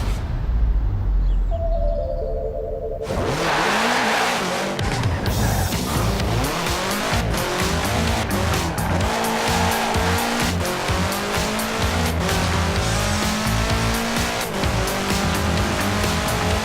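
A 1966 Volkswagen Beetle fitted with a 2.5-liter flat-four turbo engine in the racing game Forza Horizon 4 roars loudly and steadily, its tires squealing and skidding almost throughout.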